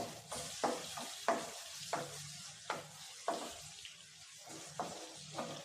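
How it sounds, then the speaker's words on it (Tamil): Onions sizzle and fry in a hot pan for egg gravy, with repeated scraping stirs of a spoon at a steady rhythm over the constant crackle. "இப்போ இது எல்லாத்தையும் சேர்த்து நல்லா வதக்கி விட்டுடலாம்"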